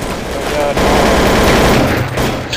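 Gunfire in Counter-Strike: Source, a loud dense burst of rapid shots filling the short moment with little pause, close and harsh, fading slightly at the end.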